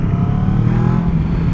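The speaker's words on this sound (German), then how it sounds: "Der Auspuff klingt ziemlich voll." A 2022 Kawasaki Versys 650 motorcycle engine runs loud and close, its exhaust holding a full, deep, steady growl with a slight rev throughout.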